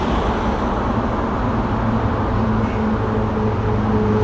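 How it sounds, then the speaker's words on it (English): Steady road traffic on the A40 at Park Royal in London, a continuous dense rumble of cars and heavier vehicles passing, fairly loud and unbroken, with no voices heard. "it's a bit noisy for my video here because there's a lot of cars coming past"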